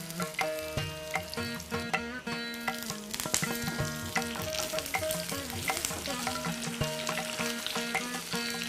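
Mustard seeds, green and dried chilies and curry leaves sizzle and crackle in hot oil for a tempering. The frying hiss continues throughout beneath background music.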